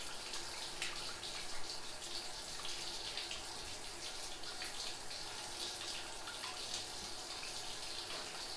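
Air and water sputter and hiss steadily from a bleed valve on a boiler heating zone, a continuous splashing, gushing flow that holds at an even level throughout.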